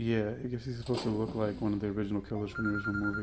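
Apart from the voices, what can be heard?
telephone ringing in the movie Scream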